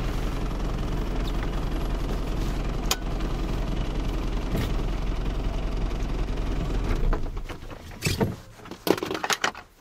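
A car engine idles at a steady low rumble for several seconds, running warm after a head gasket and cooling-system leak repair product, then is switched off, leaving a few clunks and mechanical clicks.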